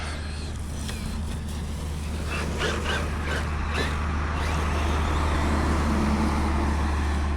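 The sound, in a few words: dump truck driving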